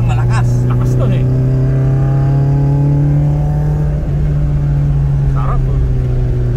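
A Toyota Sprinter Trueno AE86 accelerates with a steady, loud engine drone rising gently in pitch, close by, with faint voices in the background.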